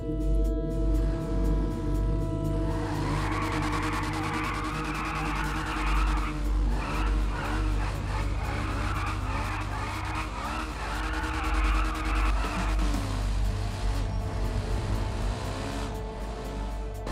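Motocross bike in GTA 5 revving hard and accelerating, with loud tire skidding and squealing over a steady engine drone, continuous and close for the whole stretch.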